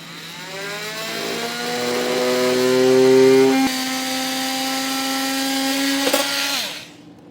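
A power tool, an oscillating tool or reciprocating saw, cuts through the plastic underbody panel of a 2022 Kia Niro EV, a steady loud whining buzz that shifts pitch midway and stops abruptly near the end.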